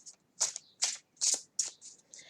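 A tarot deck shuffled up close, about five quick papery card bursts in a fairly steady rhythm, loud and clear with no talking.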